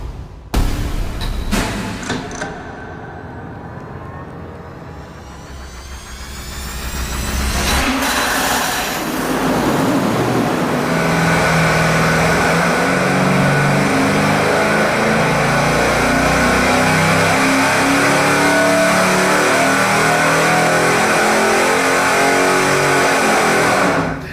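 A 350-horsepower engine breathing through a 2.5-inch exhaust with mufflers cranks over, fires and settles into a loud, steady roar after a dip, close and continuous with no talk.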